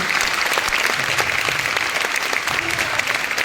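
A theatre audience applauds a children's Bharatanatyam dance performance at Ravindra Kalakshetra, a continuous loud wash of clapping with faint voices mixed in.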